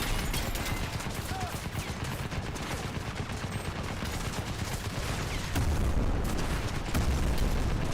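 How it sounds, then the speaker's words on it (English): Dense gunfire and explosions rumble and crackle continuously in the shooter Crysis Remastered, loud and busy throughout, with a heavier boom near the end. "Okay, explosions seem to be fine."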